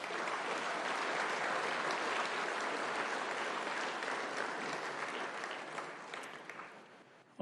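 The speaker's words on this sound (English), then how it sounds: "One more hand of applause for him." Audience applause at an Irvine city council meeting after a singer's performance of America the Beautiful, a broad, even wash of clapping from the chamber that slowly thins toward the end, heard faintly and without talk.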